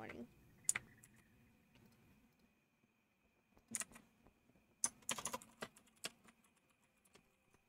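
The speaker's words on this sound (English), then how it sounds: "You can hear the typing." Quiet, close clatter of typing on a computer keyboard, a few isolated key taps early, then a quick cluster of keystrokes toward the end, with a faint background hum.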